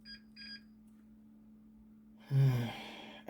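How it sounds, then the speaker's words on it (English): An old Pentium computer gives two short, faint electronic beeps during a Windows install, then falls quiet over a steady low hum before a louder burst of noise follows. "it's starting to beep at me"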